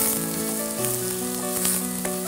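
Taro sizzles in a hot pan as it is stirred, a bright continuous frying hiss close up, with steady tonal hum lines running underneath and no talk.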